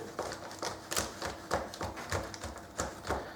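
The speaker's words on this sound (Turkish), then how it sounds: "İki parça buradan kesiyorum." A knife cutting a homemade four-ingredient protein bar into pieces on a board: a quiet, steady series of soft taps and thuds, close by, recurring roughly every half second.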